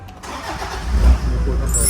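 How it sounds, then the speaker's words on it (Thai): A 2010 Toyota Fortuner 3.0V diesel automatic cranks and fires up close by, settling into a rough, steady low diesel idle. "โอ้โหรถติดชึ่งนะครับ"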